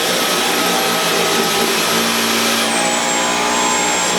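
A Dyson V11 Absolute cordless vacuum cleaner runs on carpet with a loud, close, high-pitched motor whine and rushing suction that drops in pitch partway through, steady and alone without speech.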